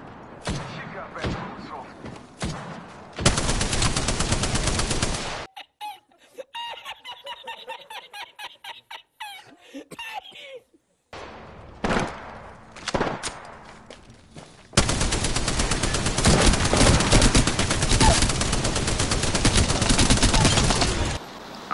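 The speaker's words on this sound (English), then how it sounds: "Contact with hostile. Yep. Firing." Automatic weapons in a first-person shooter video game fire in long, loud, rapid bursts, separated by quieter gaps where voices talk and lighter shots crackle.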